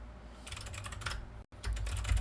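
Quick clattering keystrokes on a computer keyboard, close and fairly quiet, in a steady burst that breaks off briefly and then resumes with a few more keys.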